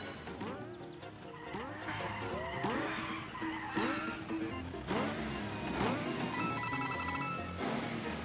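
The Koopa Car in Mario Maker 2 races along with repeated squealing skid sounds in a steady rhythm, each sweep sharp and close, over a busy bed of engine and game music.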